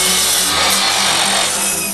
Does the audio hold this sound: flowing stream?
no